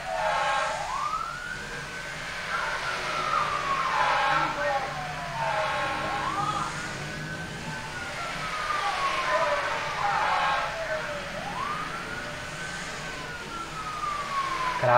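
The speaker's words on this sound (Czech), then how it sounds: "A sem prostě jedou dvě hasičské auta zároveň," Wailing sirens of two fire trucks responding together in the SimCity video game, rising and falling in long repeated sweeps over a low city rumble.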